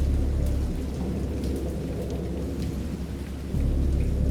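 Steady rain pours close by, with low rolling thunder rumbling underneath throughout and swelling again near the end, no voices present.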